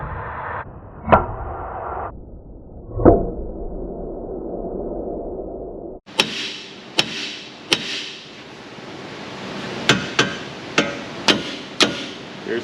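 Metal rings out under repeated hammer blows, first a couple of heavy strikes, then a series of sharp, loud hits at irregular intervals, knocking a tie rod out of the steering knuckle of a 1994-2004 Ford Mustang GT 4.6.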